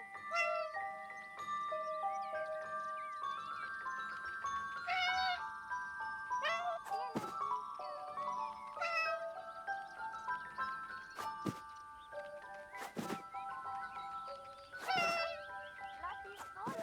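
Kitten Lotti in the video game 11-11 Memories Retold gives a string of clear, high meows, some short and some drawn out, repeating near and loud over soft chiming music, with a voice talking now and then.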